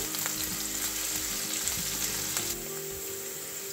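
Chopped green chilies and curry leaves sauté in a pan for matki chaat, a continuous close hiss and crackle of frying with scattered spatula scrapes. No voices.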